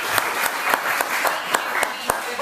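A town council meeting audience breaks into applause and cheering, a dense wash of claps with sharp peaks, loud and close throughout.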